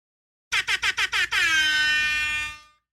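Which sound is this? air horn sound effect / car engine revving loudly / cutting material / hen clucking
air horn sound effect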